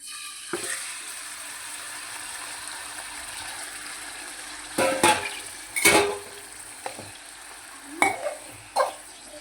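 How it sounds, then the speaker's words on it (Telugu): Marinated chicken frying in hot oil for a chicken pulao, a steady sizzle running throughout with a few louder bursts and stirring clatters near the end. "ఆయిల్ వేడెక్కింది కదండి, మనం ఇప్పుడు మ్యారినేట్ చేసుకున్న చికెన్ వేసేసుకుందాం"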